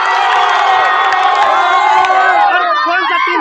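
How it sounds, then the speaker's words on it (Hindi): Dense crowd noise at a Krishna Janmashtami matka-phod (pot-breaking) contest, cheering and shouting loudly and steadily throughout with clapping blended in, young voices whooping near and far. "इनके लिए एक जोरदार क्लैपिंग और तालियां।"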